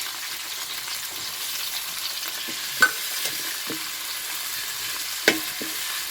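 Onion, tomato and crushed ginger and garlic sauté in a pan for chicken curry: a continuous soft sizzle runs throughout, with occasional spoon taps and two sharper clinks against the pan.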